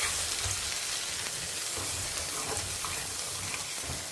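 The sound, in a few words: mustard seeds and urad dal sizzling in hot oil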